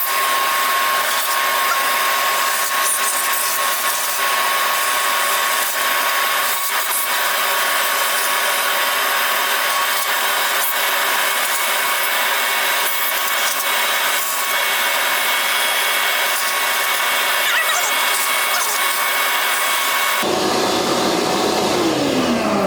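A loud, steady vacuum cleaner roars continuously with a high whine, then its tone shifts near the end as the motor changes pitch.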